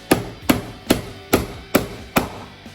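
A hammer driving nails into a wooden birdhouse, six sharp evenly spaced strikes followed by a lighter tap, close and loud with no talking.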